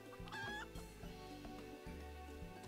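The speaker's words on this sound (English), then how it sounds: "Onwards, chicken!" A chicken clucks in the video game Final Fantasy XIV, with a few short clucks near the start set against steady, loud in-game music that plays throughout.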